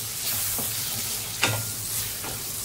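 Fried green chillies being stirred with crushed roasted peanuts in a hot pan: a continuous near sizzle broken by a few scraping strokes of a spoon.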